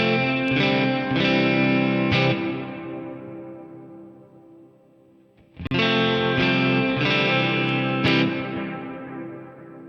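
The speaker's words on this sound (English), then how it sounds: "Let me hit the wet effects over here on switch 2." Electric guitar through a Line 6 HX Stomp on a Dual Cali wet effects preset: sustained, distorted chords strummed in bursts, washed in chorus, echo and reverb that swell and fade, loud and alone.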